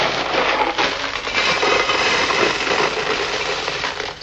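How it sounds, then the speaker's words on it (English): A box of gravel shaken hard, producing a dense, continuous rattling hiss of loose stones that churns without pause for the whole span, loud and close. "What have we got here? Box of gravel."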